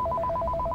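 A telephone rings with a rapid, warbling electronic trill, loud and steady throughout the short moment, with no voices.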